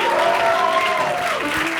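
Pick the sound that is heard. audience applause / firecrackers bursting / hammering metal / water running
audience applause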